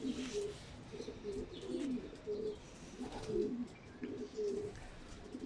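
Racing pigeons at a loft coo softly and repeatedly nearby, a low throaty rhythmic burble over quiet background.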